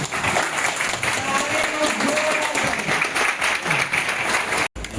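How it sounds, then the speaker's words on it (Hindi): A business celebration audience gives loud, sustained applause, a thick continuous wash of clapping with voices mixed in and a momentary dropout near the end. "तो एक जोरदार ताली बजाइए सब लोग"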